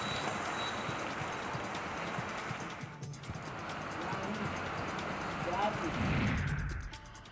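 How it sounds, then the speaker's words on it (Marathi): Steady rain falls on a wet morning in Ratnagiri, making a continuous broadband hiss of drops on surfaces that holds throughout, with a faint murmur of voices underneath. "सकाळपासून पावसाची रिपरिप आहे."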